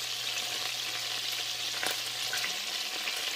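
Butter foaming in a pan for shrimp scampi, a steady, close fizzing sizzle with a light low hum underneath and a brief clink partway through.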